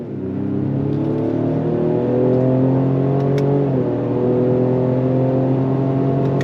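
The twin-turbo engine of a 2025 Ford Explorer ST accelerates steadily, its pitch rising smoothly with a brief dip as a gear shifts, then climbing again; loud, close and continuous.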